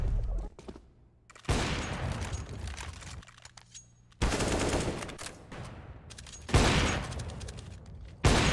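AWP sniper rifle fire in Counter-Strike, three loud sharp shots spaced a few seconds apart, each followed by a long ringing tail, with faint game sounds between.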